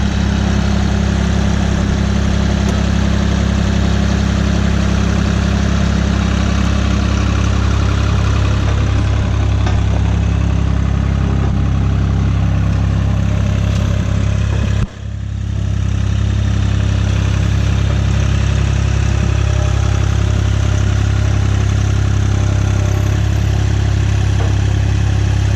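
A Vermeer CTX 100 mini skid steer runs steadily close by, its engine holding a loud, continuous drone while the bucket picks up a pallet, with one brief dip partway through.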